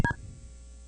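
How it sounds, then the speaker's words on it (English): A single short electronic phone beep, a bright two-tone chirp lasting a fraction of a second, sounds loud and close at the start, then drops to quiet line noise. "the phone beeped"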